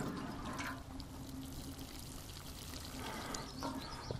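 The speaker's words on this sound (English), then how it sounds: "Little sprinkle of water to make the roots want to go downwards." Water poured into a planting hole for a vine in a vineyard row, a steady splashing pour with a few brief surges, close and continuous.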